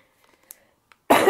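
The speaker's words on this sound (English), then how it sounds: "Excuse me for coughing, I'm just getting over" A single sharp cough from someone recovering from the flu, close to the mic after near silence, preceded by a few faint clicks.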